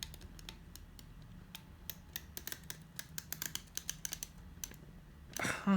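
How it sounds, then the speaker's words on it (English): A tape runner lays adhesive onto folded paper in a sewing-themed craft project, giving a run of small, close, dry clicks and ticks with a brief louder rustle at the end. "And then I'm going to use my tape runner on it."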